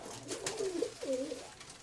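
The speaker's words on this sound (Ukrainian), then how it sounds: "Підростали вже голубенята." Young pigeons in a dovecote give two soft, low cooing calls in quick succession, close and fairly quiet, with no speech.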